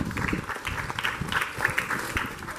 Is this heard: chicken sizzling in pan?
no